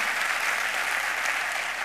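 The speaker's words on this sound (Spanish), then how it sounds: "para darles un aplauso a todos ustedes porque se lo merecen" An audience applauds steadily throughout at a carnival murga show, dense continuous clapping from a full crowd with no pauses or voices on top.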